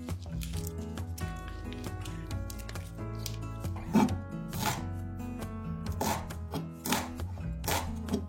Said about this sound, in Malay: Gulung dan hiris nipis.